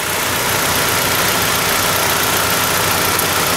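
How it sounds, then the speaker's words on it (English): A 2005 Nissan Sentra four-cylinder engine idles steadily up close, a constant even hum with a broad hiss and no voices over it. "Decently newer battery, still cranks pretty well, starts up first try, all that good stuff."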